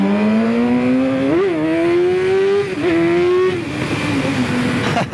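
A 2010 Yamaha R6 sport bike engine revving steadily up from idle, with a loud, close, high-pitched whine that rises and dips through several blips of the throttle and plays alone without talk.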